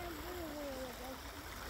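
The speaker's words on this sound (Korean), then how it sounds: "시냇물이 졸졸졸" A small babbling stream gives a constant soft trickling wash, while a voice hums or speaks over it in a wavering tone.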